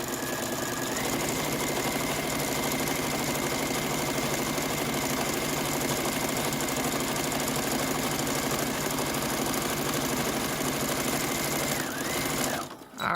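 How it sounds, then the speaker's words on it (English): A sewing machine stitching a canvas face mask runs continuously at a steady, fast mechanical hum and rattle, close and loud, stopping abruptly near the end. "When you're sewing it, what you want to do is back and forth your stitch to lock it in."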